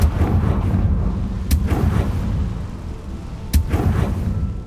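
Deep rumbling booms from a Confringo fire spell in Hogwarts Legacy, two sharp blasts a couple of seconds apart over a loud, continuous low roar.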